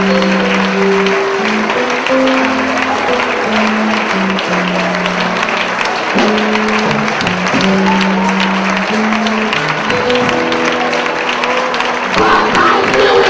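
An audience claps hands together during a church service, a dense steady patter of applause that fills the space throughout, layered over sustained music tones.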